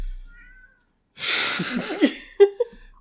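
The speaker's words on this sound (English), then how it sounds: "He needs to meow." A cat lets out a couple of short meows near the end, up close, after a rustling burst of noise.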